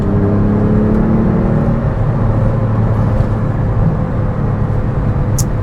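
A Porsche 912 engine whirs loudly from inside the cabin at around 7,000 revs, its pitch holding high and then easing as it drives on, with no talking.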